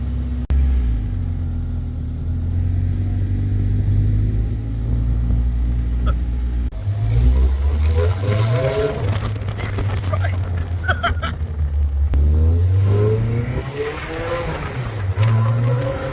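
The Death Kart go-kart's engine runs on a test drive, loud and close, with revs climbing and dropping in repeated surges over a steady rumble.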